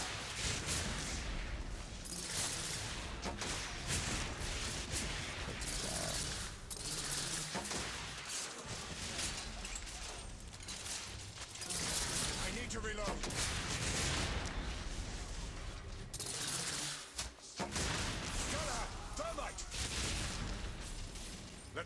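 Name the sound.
thermite gun firing in video game The Order: 1886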